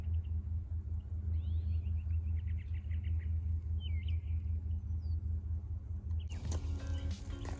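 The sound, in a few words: Segway Ninebot F40 electric scooter riding in eco mode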